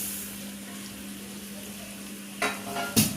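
A spoon stirs jaggery, grated coconut and black sesame in a pan, giving a faint steady scraping under a low hum, then a couple of louder scrapes and knocks near the end.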